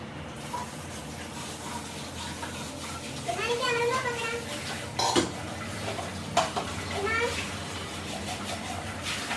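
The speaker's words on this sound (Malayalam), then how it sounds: "അപ്പോൾ ഇതാ പാത്രങ്ങളൊക്കെ കഴുകിയെടുക്കും" Dishes and pots being washed at a kitchen sink, with running water, clattering metal and ringing pot knocks rising at intervals while a voice talks over the sounds.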